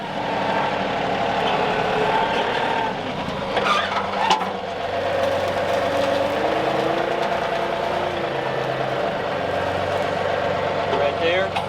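A tractor pulling a box blade with the ripper shanks raised to smooth rough ground, a continuous loud diesel engine drone with shifting pitch and occasional clanks, and people talking over it.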